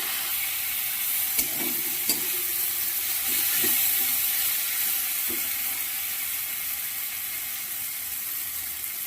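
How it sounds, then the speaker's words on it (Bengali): Ground cumin and coriander paste frying in a pan gives a loud, steady hiss and sizzle, broken by a few scraping stirs early on. "এবার মশলাটা ভালো করে আমি কষে নিচ্ছি"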